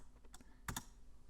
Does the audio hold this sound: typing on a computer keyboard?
yes